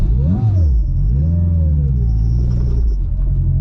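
A boosted K24 all-wheel-drive Acura RSX Type S pulls hard, its engine note climbing and dropping through rising revs, loud and close from inside the car.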